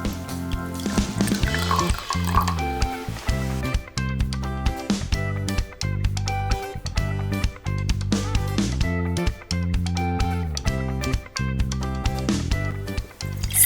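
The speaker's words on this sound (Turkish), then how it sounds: "Emici maddemizin üstüne döküyorum." Colored dye liquid is poured onto diaper absorbent material, a steady trickling, splashing flow close by under continuous background music.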